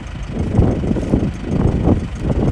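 A Deutz 6206 tractor, converted from two-wheel to four-wheel drive, idles with a low, steady diesel rumble close by, no voices over it.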